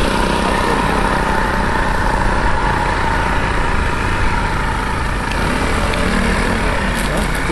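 Two Saito 82 glow engines on a radio-controlled Canadair CL-415 model flying boat run at a steady, loud, continuous drone through a taxi test, close by, with people talking over it.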